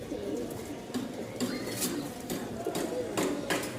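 Caged doves coo softly in the background, a faint, low repeated cooing over a quiet room.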